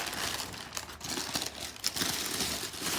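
Close, continuous crinkling and rustling of packaging as a box is opened, with a steady papery crackle and no talking.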